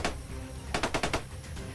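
Bursts of machine gun fire crackle in a quick cluster of shots from a firefight with bandits, with scattered single reports before and after; the gunfire sounds moderately distant.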